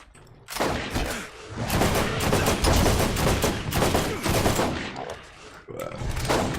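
Rapid gunfire in Borderlands, dense overlapping bursts of shots and automatic fire that are loud and close, with a short pause before the shooting resumes near the end.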